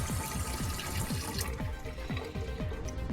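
Hot water rushes steadily from the tap of a newly replaced RV water heater, with a continuous close splashing hiss and a quick rhythmic low pulsing underneath.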